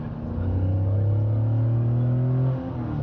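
A Ligier V6 car engine rumbles and revs up, its droning tone climbing steadily for a few seconds before settling back, loud and close, with no talking.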